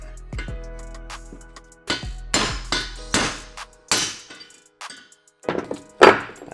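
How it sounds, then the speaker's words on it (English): A series of sharp metallic hammer strikes on an old socket extension, knocking out a steering bearing race on an RM250 motorcycle, spaced irregularly, ringing close by with brief pauses between blows and no talking. "I've just got an old extension here I use for hammering on"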